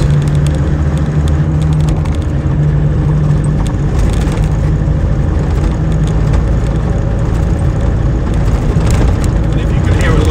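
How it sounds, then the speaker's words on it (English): Oversized 35-inch tyres on a 2007 Land Rover Defender 110 TD5 double cab give a steady low rumble with diesel engine noise inside the moving vehicle, loud and continuous, with someone talking over it. "And if you can hear a low rumble, that is the tyres."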